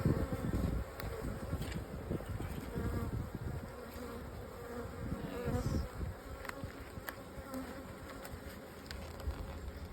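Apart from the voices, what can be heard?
honeybees buzzing at hive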